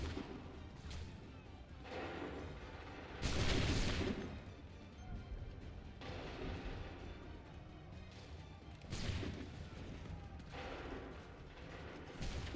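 A musket volley on command in the historical action game Assassin's Creed III, two loud crashing bursts of massed gunfire a few seconds apart over a steady background din of battle.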